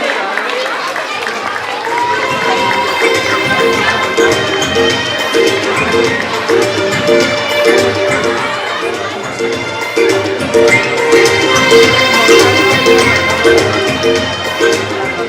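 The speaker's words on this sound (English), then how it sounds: "Dear parents, please clap for them." Parents clap at a pre-school annual prize distribution ceremony, dense and continuous applause over fifteen seconds mixed with crowd chatter and children's shouts.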